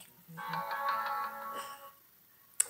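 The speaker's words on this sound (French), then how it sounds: "Excusez-moi, mon téléphone." A mobile phone ringtone plays a bright, melodic electronic tune indoors, fairly quiet, lasting about a second and a half before fading, followed by a brief click.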